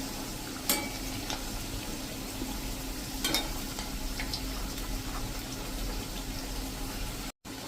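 Bajra (pearl millet) vadas deep-frying in oil until light golden, a continuous close sizzle and bubbling with a couple of sharp clicks, no talking.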